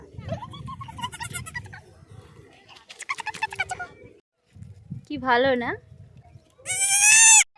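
Goats and newborn kids bleat in short wavering cries, a nanny calling anxiously nearby while high thin kid bleats ring out close, with people talking between calls.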